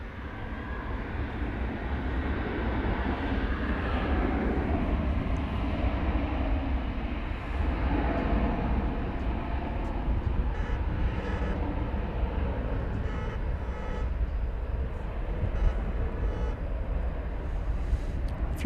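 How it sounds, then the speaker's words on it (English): A jet airliner on takeoff roll at DFW airport, a continuous broadband roar that stays loud and steady throughout, heard from a distance outdoors with no voices. "So it looks like the Flight 2090 to Fresno now has the clearance to take off"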